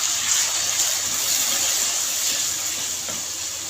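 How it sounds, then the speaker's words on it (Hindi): Water hits ginger and garlic frying in a pan for aloo gobhi, giving a loud, steady, close sizzle and hiss that eases slightly toward the end. "यहाँ पे 2 खाने के चम्मच पानी डाल देंगे।"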